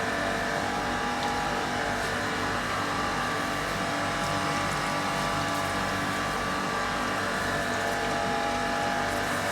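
A surface grinder's wheel runs against a cylinder head, giving a steady loud mechanical drone with a faint grinding hiss over a low motor hum. It continues evenly throughout without talk.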